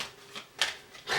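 Tarot cards are shuffled by hand in three quick, soft riffling bursts, heard close and alone with no talking.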